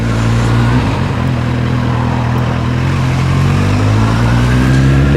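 A Kawasaki Z800e motorcycle engine runs loud and close, its steady low drone rising slightly in pitch as the revs climb, with no talking over it.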